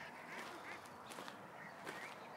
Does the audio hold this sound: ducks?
yes